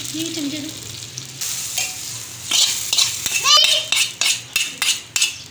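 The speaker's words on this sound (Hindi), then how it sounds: "अब हमने इसमें भगार कर दिया है दाल में।" A tadka of hot tempering is stirred into mixed dal, sizzling loudly at first, then a spoon scrapes and knocks against the pot in a rhythmic series of strokes, with brief faint voices early on.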